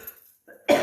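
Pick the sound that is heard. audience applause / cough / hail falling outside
cough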